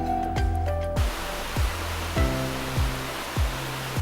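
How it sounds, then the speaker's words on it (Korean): A powerful waterfall in Japan roars with a constant, loud broadband rush, joined by music with deep rhythmic drum hits that pulse over the steady water noise. "굉음이라는 한자가 붙는 힘찬 물줄기의 폭포도 보았고"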